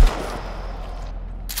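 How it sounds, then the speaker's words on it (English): A shotgun fired in the game Sons of the Forest: a single loud blast at the start decaying into a rumbling tail, no voices. "Oh, God, I like this shotgun."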